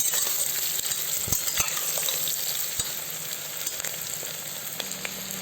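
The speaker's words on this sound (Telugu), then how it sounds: "ఇప్పుడు ఈ ఎర్రగడ్డలు, పచ్చిమిరపకాయలు బాగా బ్రౌన్ కలర్లో వచ్చేంత వరకు వేయించుకోవాలి." Onions and green chillies frying for chicken biryani give a continuous close sizzle, with occasional clacks from stirring and no voices.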